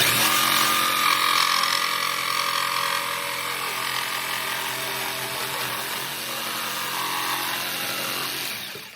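A jigsaw fitted with a Diablo blade cuts through wood in one continuous, loud, close-up buzzing rasp that holds steady for several seconds before easing off at the end.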